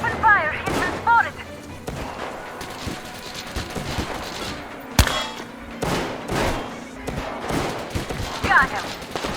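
Gunfire rattles through a Metro Exodus battle, with repeated shots and thumps at mid distance and one sharp close crack midway, mixed with game sounds and shouted talk.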